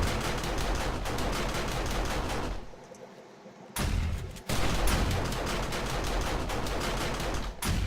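Rapid automatic fire from SMG turrets cutting down a zombie horde during a horde night in a survival video game, loud and sustained bursts with a brief lull midway before the shooting resumes.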